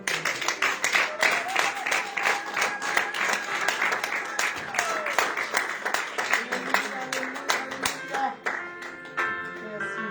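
A church congregation applauds in worship, a long run of loud, uneven clapping that continues steadily for several seconds while a voice calls out over it.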